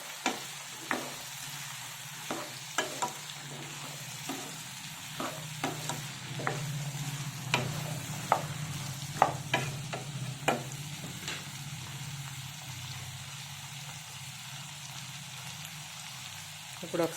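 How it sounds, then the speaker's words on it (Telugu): Peas and potato pieces frying in a pan while cooking tomato bath, a steady soft sizzle with scattered clinks and scraping stirs of a spoon against the pan, fairly quiet and close, with a low background hum. "ఇవి ఫ్రై అవుతున్నాయి కదా, ఇప్పుడు బంగాళదుంప ముక్కలు కూడా వేసేసుకుందాం. బఠానీలు ఇవి బాగా ఫ్రై అవ్వాలి."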